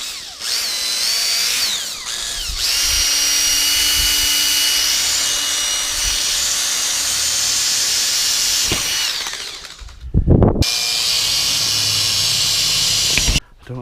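A power drill bores into a storm door frame during installation, a loud sustained whine running for most of the stretch, pausing briefly near the end before a second burst, with faint background hiss.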